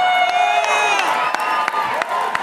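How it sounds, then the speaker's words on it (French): An audience at a gong show comedy night in Gatineau's Salle Odyssée claps and cheers, with loud whoops and shouts over rapid applause throughout. "Si vous êtes bi, applaudissez!"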